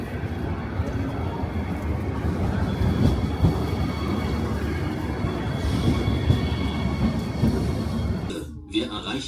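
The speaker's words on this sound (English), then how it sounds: "That's my train coming." A train pulls into a station in Dortmund, a broad, loud rumbling roar that holds steady for several seconds before cutting off abruptly near the end.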